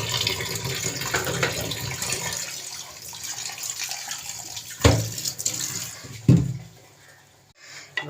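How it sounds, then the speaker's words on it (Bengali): Cold tap water pours onto boiled chow mein noodles in a steady splashing stream that thins out, with a couple of sharp knocks near the end and no clear talk. "একটু ঠান্ডা জলও দেবো এতে, কারণ ঠান্ডা জল দিলে সুন্দর ছেড়ে যাবে সুন্দরভাবে"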